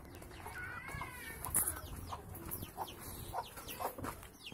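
Chickens and young pullets cluck and chirp in short, scattered calls at moderate distance, fairly faint over a steady background hiss.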